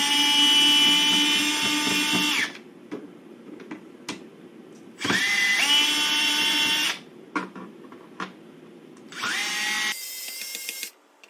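Screws being drilled out of a laptop case with a power drill, three loud whining bursts of a couple of seconds each, separated by brief quiet gaps with small clicks and handling taps, close by.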